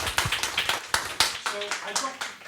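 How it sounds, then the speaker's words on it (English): Scattered clapping from a small audience at a university technology valuation lecture session, a dozen or so distinct sharp claps in uneven rhythm that thin out toward the end, close and fairly loud. "Let's give him a round of applause."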